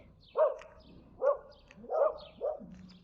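Several dogs bark in four distinct bursts spaced roughly evenly apart, each a loud, fairly close woof with some yipping edge, amid a scuffle among dogs over a newcomer; no one speaks.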